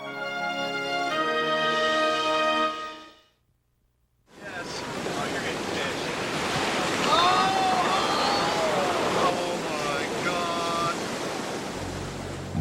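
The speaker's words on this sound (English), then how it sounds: "Monster waves crash along a dangerous Northern California surf spot known as Mavericks." Huge ocean waves crash at Mavericks, a dangerous surf spot in Northern California, as a steady loud roar of surf and wind, briefly cut by a near-silent gap, with faint voices in the background.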